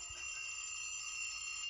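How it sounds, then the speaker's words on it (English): An alarm clock rings in a children's animated Noddy song, giving a steady, continuous bright ringing tone that holds at an even level throughout, with no voices. "Our alarm clock keeps us on our toes. And it's time the bell will ring."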